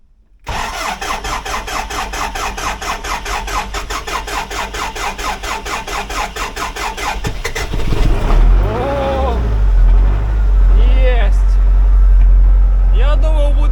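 An old tractor engine cranks with a rapid, steady chugging for several seconds, then catches and roars into a loud, rumbling idle with revving swells.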